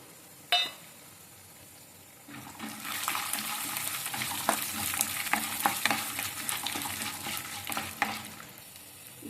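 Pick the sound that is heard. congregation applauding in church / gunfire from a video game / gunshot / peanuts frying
peanuts frying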